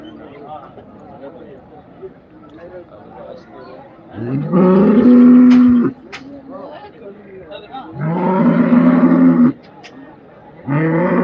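Cattle at the Karungalpalayam cattle market in Erode let out three long, loud, deep moos, separated by pauses, over a steady murmur of market crowd noise.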